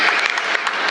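A burst of clapping and applause from a crowd at a fun eating challenge game in a mall, dense and steady, celebrating the winner.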